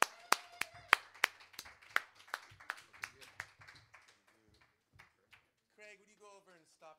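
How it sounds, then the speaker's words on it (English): Hand clapping at a community open mic night: a steady run of sharp, close claps that slow and fade out, followed by a voice starting to speak. "A round of applause for being here at the end of Open Mic tonight"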